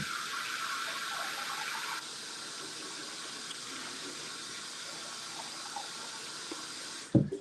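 Water runs steadily from a tap while homebrewing equipment is rinsed on a brown ale bottling day. There is a continuous hiss of flow, the tone shifts partway through, and it ends with a brief clunk.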